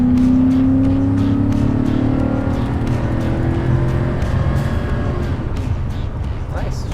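A 2002 Cadillac Eldorado accelerates hard from about 50, its engine note climbing steadily under a loud, continuous drone of road and wind noise heard from inside the car.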